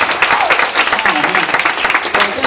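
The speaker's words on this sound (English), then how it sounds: "Let's give these guys a big round of applause" An audience at a school prom applauds performers, a lively patter of many clapping hands with voices talking and calling out over it.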